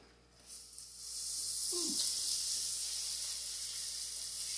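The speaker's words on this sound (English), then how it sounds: "Now, while those are cooking, we're going to make the sauce." Corn fritters frying in hot oil for a Creole recipe give a steady, loud broadband sizzle that swells after the first half second and holds, with a brief low gurgle partway through and no talking.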